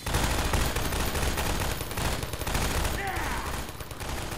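Dense, continuous video-game gunfire from Half-Life 2 Episode Two, a loud rapid fusillade of overlapping shots filling the whole stretch without pause, with faint voices mixed in.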